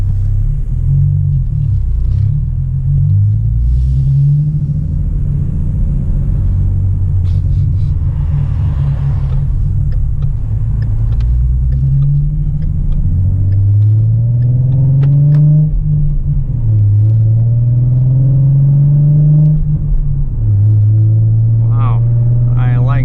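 A 2017 Ford Mustang with an MT-82 manual gearbox and short-throw shifter cruises along Hespeler Road in Cambridge, its engine a steady loud low rumble from inside the cabin, rising and falling through gear changes and acceleration.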